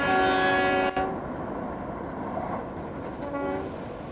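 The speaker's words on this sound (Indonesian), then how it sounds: "Kereta semen dari Brambanan tujuan Solo Balapan tadi bawa LD luar dinas" A cement freight train rolls through Solo Balapan station, with a horn sounding at the start and a steady rumble of wagons passing close by for the rest.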